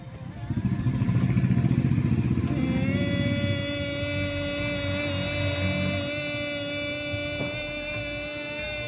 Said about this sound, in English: you need to make a humming sound like this.